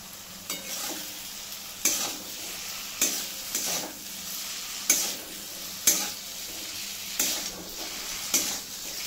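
Spiny gourd (kakrol) pieces fry in a pan with a steady sizzle, broken by repeated scraping strokes of a spatula at a regular rhythm, close and fairly loud, with no talking.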